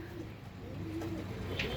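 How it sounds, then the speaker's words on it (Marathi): Andhra line lalpatti pigeons coo softly and steadily at close range, with low throaty calls over a continuous murmur of birds. "एकदम सुपर क्वालिटीचे कबूतर आहेत."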